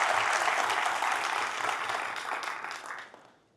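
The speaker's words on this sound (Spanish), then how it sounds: "démosle un fuerte aplauso a la señora gobernadora" Applause from an audience at a book launch event in a university hall, a dense burst of clapping that fades away over a few seconds, with no speech over it.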